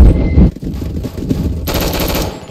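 Rapid automatic gunfire from a machine gun in a Roblox game, a dense loud burst that cuts off briefly, then resumes in a sustained rattling stream.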